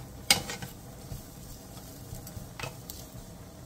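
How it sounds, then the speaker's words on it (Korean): Square fish cakes stirred in a dry pan over high heat, a quiet scrape or two from the spatula over a faint, low sizzle, with nobody speaking. "사각어묵 내장을 먹기 좋게 자른 뒤 마른 팬에 넣고 센 불에서 살짝 노릇하게 볶아주세요."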